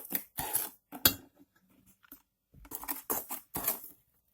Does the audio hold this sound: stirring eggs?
yes